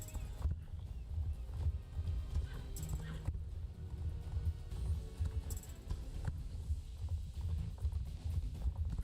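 Horse hooves clip-clop in a steady walking rhythm while a character rides in an online horse-riding game, the hoof beats fairly close and continuous, with a brief neigh possible and faint background game sounds.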